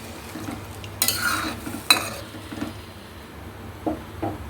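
Soybean and potato curry stirred in a pan, a few scraping strokes and short bursts of sizzle over a low steady background hum, with quiet clinks near the end.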